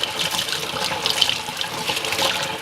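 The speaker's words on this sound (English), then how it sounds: "So let's rinse some of that off." A Scrub Daddy sponge being rinsed under running tap water at a sink: a steady splashing, hissing stream close by, with the water breaking unevenly as the sponge moves through it.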